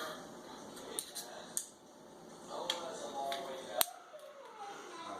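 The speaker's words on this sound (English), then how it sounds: "So take the cooking shears. This is really hard to cut." Cooking shears cut through the tail of a 4 lb red snapper being readied for an outdoor Cajun deep fryer, giving a few sharp, separate snips and clicks over quiet background noise.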